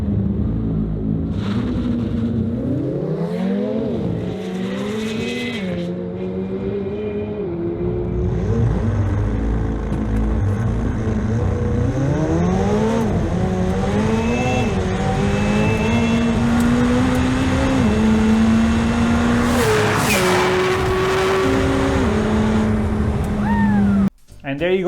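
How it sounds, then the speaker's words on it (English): McLaren 765LT and McLaren 720S drag racing on a drag strip, loud engines revving and climbing through repeated gear changes, with rising and dropping pitch sweeps and a sustained roar that cuts off abruptly at the end. "a quick clip for you guys showing you how fast the 765 LT is against the 720S"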